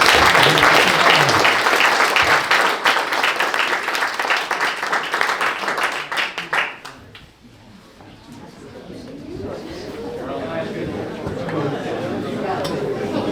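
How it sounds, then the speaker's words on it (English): An audience at an author talk in Fairbanks bursts into loud, dense applause that fades after about seven seconds, leaving murmuring chatter and scattered voices. "Let's give one more round of applause to all of our speakers"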